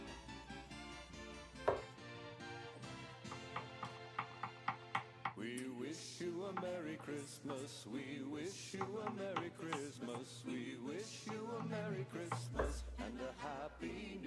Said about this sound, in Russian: Итак, нарезаем картошку.